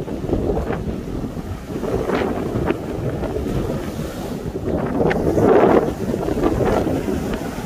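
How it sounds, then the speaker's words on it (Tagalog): Strong wind at the seaside roars across the microphone in loud, steady gusts that swell and ease, mixed with the wash of waves, with no voices. "Lakas ng hangin."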